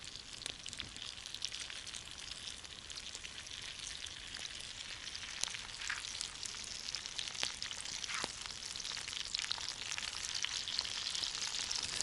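Tomatoes and garlic fry in a small, crowded pan with a soft, continuous sizzle and crackle, steady and fairly faint, with no voices.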